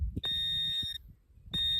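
A Deus II metal detector sounds a steady high tone for about three quarters of a second near metal, pauses, then starts again, with faint handling noise underneath.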